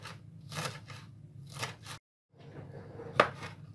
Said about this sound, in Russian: Зелень я мелко нарезаю при помощи ножа.